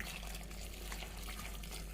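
Water pours into a curry pot of onion, ginger and garlic as a soft, continuous splashing trickle, heard faint and close with no talking.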